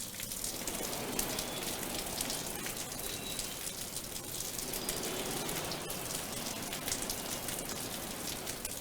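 Heavy rain pours down in Hyderabad as a dense, continuous hiss with close patter, steady and unbroken throughout.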